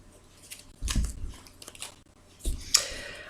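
A deck of tarot cards is cut by hand, a few soft papery shuffles and taps up close, quiet with two brief louder rustles and no talking.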